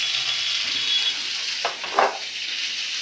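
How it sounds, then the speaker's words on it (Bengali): Potato, ridge gourd and taro frying in a pan over low flame, a steady soft sizzle with a couple of brief stirring scrapes near the end, close and quiet with no voices. "আলু ঝিঙে আর কচু ভালো করে ভাজা করে নিচ্ছি"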